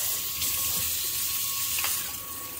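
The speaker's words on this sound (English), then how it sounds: "I just put it in and rinse it off." Tap water runs steadily into a kitchen sink while a dish cloth holding flour dough residue is rinsed under it, a continuous close splashing hiss with a few brief louder spatters.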